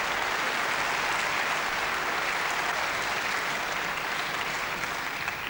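A snooker crowd at the 1984 Benson & Hedges Masters semi-final applauds Jimmy White's 113 break, loud, dense and sustained clapping filling the arena without pause.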